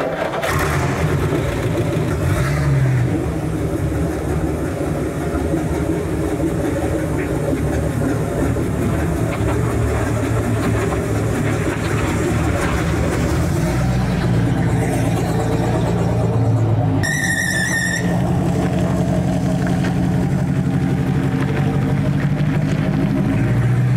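A car engine runs steadily and close as the car is driven out, a continuous loud rumble with a brief high whine partway through and no talk.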